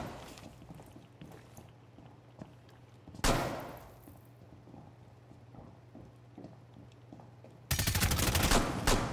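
Gunfire from Rainbow Six Siege: a loud burst near 3 seconds and a sustained rapid volley from about 8 seconds to the end, over a steady low game hum and scattered lighter shots.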